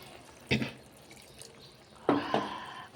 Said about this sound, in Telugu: కొంచెం వాటర్ పోద్దామండి, ఇంకా కొంచెం